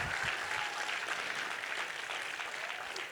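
A full room applauds after a Kathak dance performance, a dense, even wash of clapping that holds steady throughout, heard at moderate level with no talking over it.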